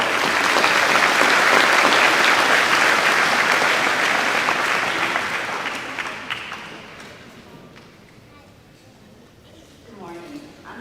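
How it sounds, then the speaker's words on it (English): Audience applause fills a high school signing day ceremony, loud and sustained for several seconds before tapering off, with a voice briefly speaking near the end. "And that deserves a big clap."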